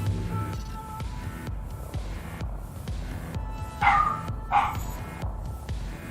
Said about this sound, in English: Because the dog's barking.